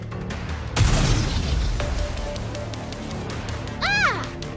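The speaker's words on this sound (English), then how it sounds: "The explosions aren't stable." Homemade explosives go off in the video game Nikke. One heavy boom is followed by a rumbling, crackling tail, then another burst near the end with a rising whine over continuous background noise.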